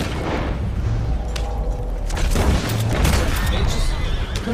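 Gunfire in the Red Dead video game during a chaotic shootout, with booming shots and crashes spread across a dense, noisy mix, horse whinnies and game sound effects, and voices talking over it.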